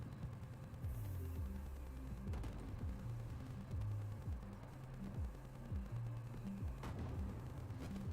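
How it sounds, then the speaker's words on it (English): Fireworks going off at a campground in Cities: Skylines, a steady run of repeated muffled pops and crackles over several seconds against a continuous low rumble, with no talk. "So you hear the fireworks, but you just don't see them for some damn reason."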